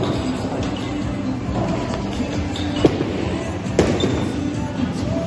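A hooked bowling ball rumbles steadily down the lane at a tenpin bowling alley in Swansea. Two sharp knocks punctuate the rolling sound amid the hall's background noise.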